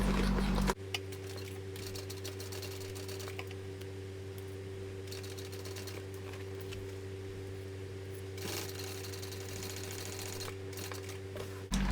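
A domestic sewing machine runs a long steady stitching burst along the seams of a shoulder bag, with a constant motor hum and fast needle chatter, close up and alone after a brief start.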